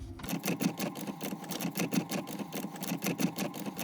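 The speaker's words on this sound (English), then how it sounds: "So I take a 10mm socket and remove these 4 bolts" A 10mm socket on a ratchet or driver working out the airbag module bolts under the steering column of a 2019 Ford Escape, a fast, continuous mechanical clicking that stays close and steady throughout.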